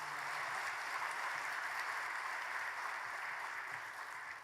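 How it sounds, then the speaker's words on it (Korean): A church congregation applauds together in a large room, a soft steady wash of many hands clapping throughout that sounds somewhat distant. "우리 박수 보내주십시오"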